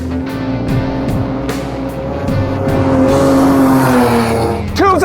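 A 1990 BMW E30 325i wagon is driven hard on a timed lap, its engine loud and close with a steady note that climbs through the revs, ending in a brief squeal of tires.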